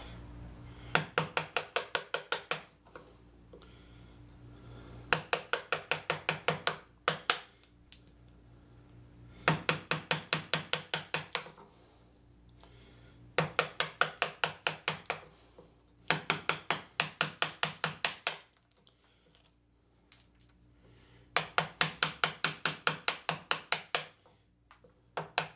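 Lie-Nielsen chisel struck with a mallet to chop waste from wood for a pedestal table, loud rapid bursts of sharp knocks in clusters of about eight to ten, separated by short pauses, close up with no talk.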